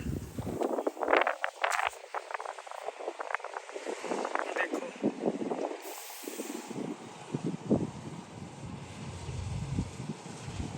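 Wind blowing steadily across a ripe wheat field at harvest time, a broad hissy rush with gusts, under frequent nearby talk from people in the field.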